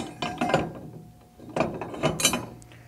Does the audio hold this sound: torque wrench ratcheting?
yes